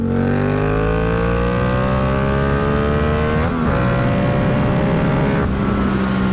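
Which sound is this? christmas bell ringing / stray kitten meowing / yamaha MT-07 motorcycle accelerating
yamaha MT-07 motorcycle accelerating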